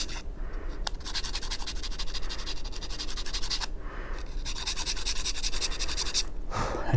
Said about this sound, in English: you'll take your little sandpaper here and you'll kind of sandpaper it wide enough so you can fit your point